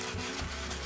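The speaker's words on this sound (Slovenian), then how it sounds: "Zakaj jih pa brusimo?" Jewelry beads being sanded by hand, giving a steady, close, rough scraping and rubbing that continues without break and with no talking.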